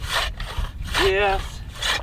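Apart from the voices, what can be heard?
hand saw cutting ice blocks for an igloo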